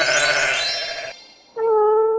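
A sheep bleats in two harmonic calls, a long wavering one followed by a short pause and a steadier second call, close and fairly loud.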